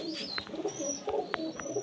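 Breeding pigeons in a loft, soft repeated cooing and a few short chirps close by, layered over one another, no talking.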